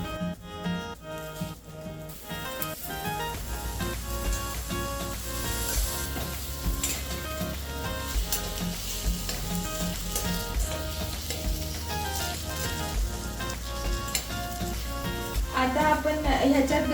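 Green peas go into oily masala frying in a pan for kala masala vatana bhaji, sizzling and stirred under steady background music.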